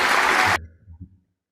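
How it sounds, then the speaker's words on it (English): Canned applause track playing during a live music stream, a burst of recorded clapping that cuts off abruptly after about half a second, leaving only a faint low tail. "That clapping track is the best."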